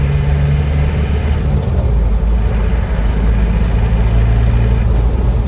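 A restored 1988 Land Rover 110 soft top with a 200TDi diesel and LT77 gearbox trundles down a road, its engine giving a loud, steady low rumble with a slight dip midway before building again.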